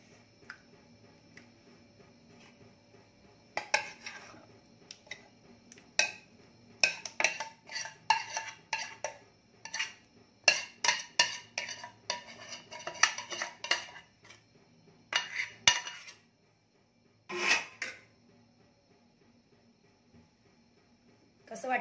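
Shahi paneer being served from a pan brings repeated metal clinks and scrapes of a spoon against cookware, in irregular clusters of taps with short pauses, close and fairly crisp.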